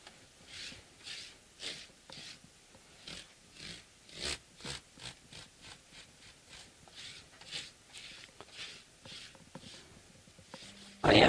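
1500-grit abrasive is rubbed along the frets of a 1970s Gibson SG in soft, steady back-and-forth strokes, faint and close, ending with a sudden loud knock.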